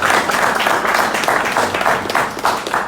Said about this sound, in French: Une fois de plus, applaudissez s'il vous plaît.